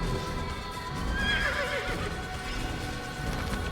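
A horse in the video game Assassin's Creed neighs loudly in a shrill whinny, with clip-clopping hooves and steady game background noise throughout the short burst.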